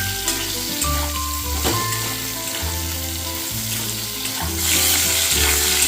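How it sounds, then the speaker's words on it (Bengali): Eggplant fries in hot oil in a pan with a continuous loud sizzle that swells near the end. Occasional stirring sounds can be heard, set against a steady tonal background. "যতক্ষণ পর্যন্ত লালচে একটা কালার আছে ততক্ষণ পর্যন্ত এটা ফ্রাই করে নিতে হবে"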